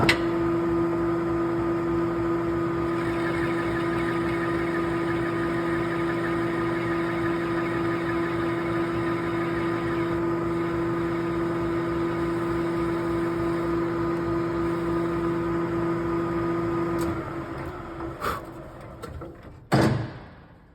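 Metal lathe taking a steady cut on a brass adapter, a constant motor whine with a humming tone running unchanged before it winds down, followed by a few clunks.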